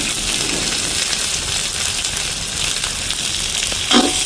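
Green chillies, onions and curry leaves frying in a pan for a curry, with a steady broad sizzle throughout and a brief clink near the end.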